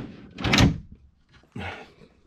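Sleeping-system drawer in a fifth-generation Toyota 4Runner pulled out after two latches are released, a loud sliding rumble with a clunk, then a second shorter knock a moment later, close up.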